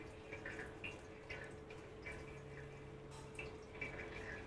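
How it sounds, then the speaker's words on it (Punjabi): Water drips steadily from curd being strained, falling from below the cloth in a faint, continuous patter with small splashes, and no voices. "ਲੋ ਜੀ ਇਹ ਥੱਲੇ ਨਿਕਲਣ ਲੱਗ ਗਿਆ ਇਹਦਾ ਪਾਣੀ"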